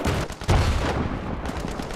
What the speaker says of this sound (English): Trying to get a shot off on this guy, and wrong angle.